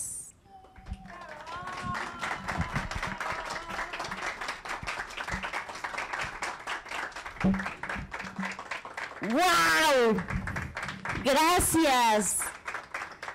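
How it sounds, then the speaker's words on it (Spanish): Listeners at a children's read-aloud event clap after a story, with scattered taps and a lively host exclaiming and thanking them loudly over the applause. "¡Qué súper aplauso!"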